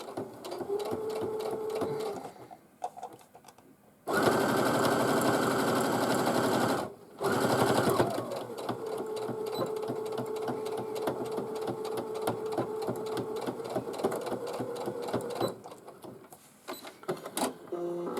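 Stitching a tote bag pocket on a sewing machine gives close, rapid mechanical whirring in several bursts, with pauses and handling clicks between runs and a little talk.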